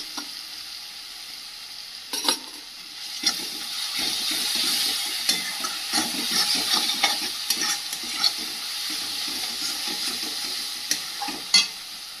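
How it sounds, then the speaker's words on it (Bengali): Spice paste with cumin powder fries in oil in a pan, a steady close sizzle broken by frequent scraping and clinking of a spatula stirring, with a few sharper knocks and no talk. "মশলাটা ভালো করে ভেজে নিয়েছি আর মশলা থেকে তেল ছেড়ে দিয়েছে"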